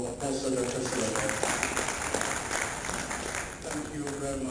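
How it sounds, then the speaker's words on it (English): Applause from an assembly audience at an inter-religious council gathering, a steady wash of clapping that runs throughout, with a voice speaking over it at moments. "hand clap for Apostle Dr."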